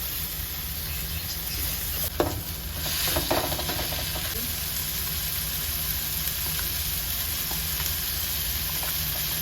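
Tomatoes drop into a hot pan and fry, giving a constant close sizzle with a brief clatter of stirring early on, followed by an even hiss.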